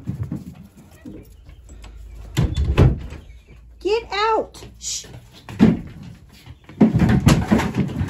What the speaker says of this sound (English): Okay, we're gonna have to close this door.